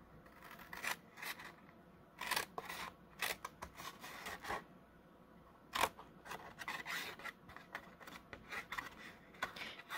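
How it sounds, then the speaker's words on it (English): Cardstock is trimmed for a treat box with a paper trimmer or scissors, making short close rasping cuts and slides in quick irregular bursts, fairly quiet and without talk. "I am going to trim straight up"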